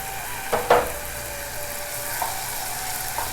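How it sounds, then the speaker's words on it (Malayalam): Tomatoes and crushed garlic sauté in a pan with a steady, bright sizzling hiss, broken early by a couple of louder crackling bursts as ingredients hit the hot oil. "ഇനി ഇതിലേക്ക് ചേർത്ത് കൊടുക്കേണ്ടത് വെളുത്തുള്ളിയാണ്. വെളുത്തുള്ളി ഇതേപോലെ ഒന്ന് ചതച്ചിട്ട് ചേർത്ത് കൊടുക്കുക."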